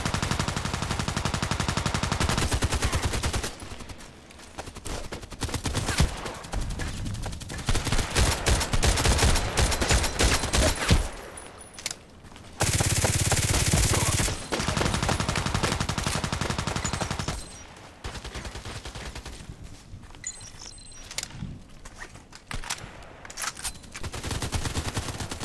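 SVD-S sniper rifle firing in a video game, loud, dense bursts of gunfire and blasts in clusters, broken by short lulls and a sustained roaring stretch midway.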